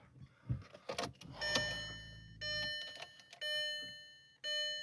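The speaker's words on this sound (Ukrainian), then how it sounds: "Це сигналізує те, що не пристебнутий ремінь, і те, що пального потрібно підзаправити" Warning chime in a 2004 Skoda Octavia 1.6 MPI for an unfastened seatbelt and low fuel: bright, repeated electronic tones sound in three evenly spaced bursts, after a few soft clunks and rustles inside the car.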